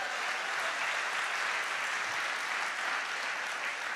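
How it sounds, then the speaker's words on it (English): Congregation clapping hands at a Sunday church service, a steady dense wash of applause like rain that holds evenly loud for the whole stretch with no voices over it. "clap your hands, make it sound like rain."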